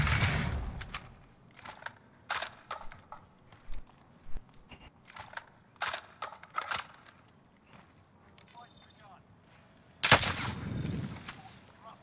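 Scattered gunshots in a Call of Duty Warzone match, sharp single cracks and short bursts spaced irregularly, moderately loud, with a heavier burst near the end and players chatting between shots.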